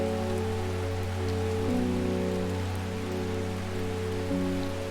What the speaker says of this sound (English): I don't think I need a water because it's raining.